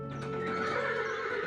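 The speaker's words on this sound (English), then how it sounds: "Soon, a jolly coach drove up with 8 beautiful horses" Horses neigh and whinny while hooves clip-clop, a team of eight plumed horses in golden harness pulling a jolly coach, the calls loud and close with steady hoofbeats beneath.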